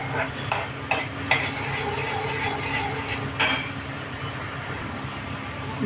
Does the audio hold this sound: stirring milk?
yes